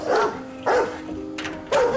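A dog in an episode of the TV drama The Leftovers barks in three loud, sharp barks spaced roughly a second apart, close up over a quiet background hum.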